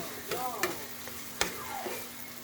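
Burnt fried rice (sinangag) is stirred in a pan, giving a few quiet scraping strokes and sharp spatula taps over a faint sizzle, close and without talk.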